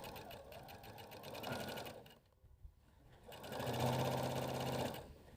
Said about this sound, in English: let's go ahead and take this to the machine and sew our last rows on.